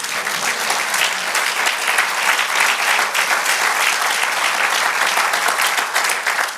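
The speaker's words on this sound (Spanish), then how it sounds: "Denle un aplauso al Señor" Sustained applause from a church congregation, many hands clapping in an even, unbroken roar for several seconds, loud and near with no speech on top.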